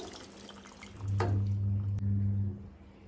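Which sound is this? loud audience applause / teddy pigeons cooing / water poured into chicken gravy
water poured into chicken gravy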